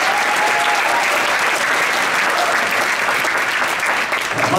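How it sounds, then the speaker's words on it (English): Big, dense applause from an audience at a high school pops and jazz concert, a loud continuous roar of clapping throughout that eases slightly at the end. "Let's give her a big round of applause"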